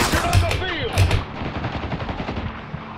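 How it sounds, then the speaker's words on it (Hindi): Light machine gun fire from a heavily armoured enemy in the video game Spec Ops: The Line, with loud sustained automatic bursts up close and a voice speaking over the shooting. "ये इस पे पूरा आर्मर होता है और एलएमजी चला रहा है ये"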